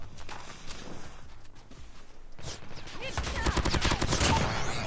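Video game gunfire in COD Mobile: rapid bursts of automatic shots building into a dense, loud stream of fire, with game effects and footsteps underneath.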